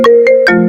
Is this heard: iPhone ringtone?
yes